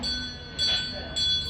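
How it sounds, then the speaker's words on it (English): A bright period-style doorbell rings in two short bursts with a lingering metallic tone between them, close and fairly loud. "It's a period doorbell."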